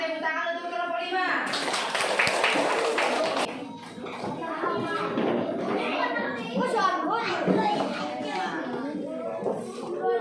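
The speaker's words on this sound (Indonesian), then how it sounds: "Ya, tepuk tangan untuk kelompok 5." A classroom of children claps for a group in a short burst of dense applause, followed by kids chattering and an adult voice speaking amid the lively room.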